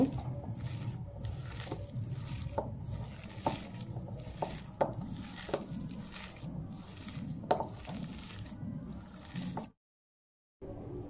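Wet squishing and slapping as sliced onion is worked by hand into a thin gram flour batter with a pinch of soda and a little water, irregular close squelches, then a brief silence near the end.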